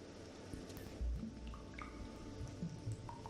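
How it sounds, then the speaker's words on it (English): Cartoon cave scene with water droplets falling, a few soft, distinct drips plinking over quiet low ambience, faint and sparse. "sound effect there, water droplets"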